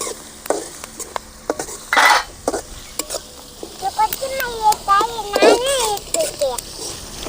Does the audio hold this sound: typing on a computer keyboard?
no